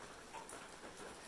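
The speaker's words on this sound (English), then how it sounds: "It picked up raining again. Coming down pretty good." Steady rain falling around a hiking shelter on a trail, a soft, even hiss of drops with no pauses, faint and continuous with no voices.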